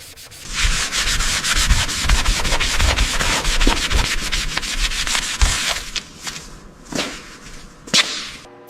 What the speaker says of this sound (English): Okay, getting into the sanding now. This mid-boiler section is heavily oxidized